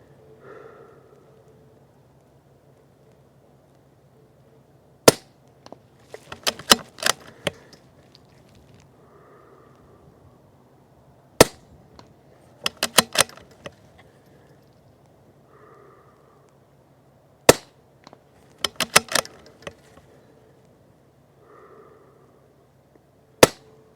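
A Vudoo .22LR rifle fired at long range, fitted with a suppressor, either a Manners or an MDT ACC. Sharp single shots ring out about every five to six seconds, some followed by a quick cluster of echoing cracks, with quiet pauses between.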